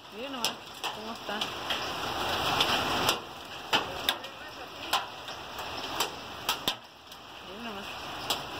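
Hail patters steadily on a surface and plants, with sharp distinct impacts cracking out every second or so while a voice talks over it.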